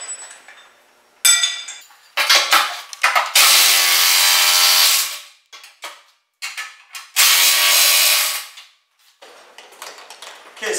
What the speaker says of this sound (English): That's an 1 1/8 wrench